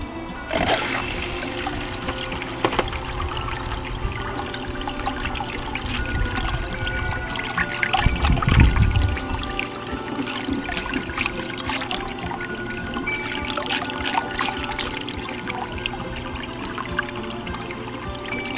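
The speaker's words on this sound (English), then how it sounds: "This is spilling over a little bit, so let's just adjust that a little." Water streams and splashes through a small Little Buddy gold cleanup sluice, a continuous trickling and pouring flow with gurgling bubbles and a slight spill over the edge, steady and close with no speech.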